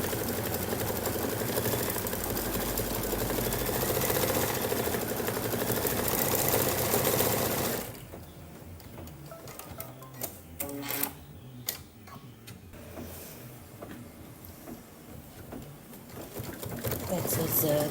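An embroidery machine stitches the stem of a Kimberbell mug rug design in azure Glide thread, a steady mechanical whir that runs loudly for several seconds and then drops to a quieter, uneven stitching with occasional clicks.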